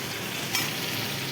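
Meat sizzles in a pan with spices and fried onion in a home kitchen, a dense steady crackle with a brief scrape of stirring midway, no talk over it.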